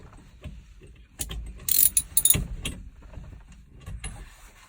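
A hand ratchet tightening bolts while a seat is installed in a 1967 Mercury Cougar, heard as short bursts of close metallic clicking and clattering with quiet handling noises between them.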